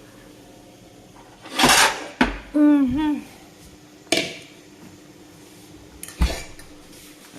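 Metal clanks and clatters of a cooking pot being handled to boil eggs, several sharp knocks close by, with a brief murmur of a voice between them.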